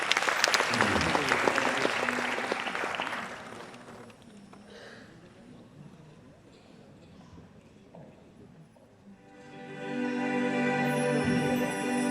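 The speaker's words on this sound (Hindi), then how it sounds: "ऑडियंस ताली बजा रही है" Audience applause at a multilingual music show, loud clapping for about three seconds that fades into quieter murmurs and footsteps, then music with sustained tones swells in near the end.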